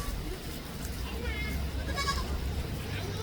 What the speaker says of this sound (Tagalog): Ito mga kambing.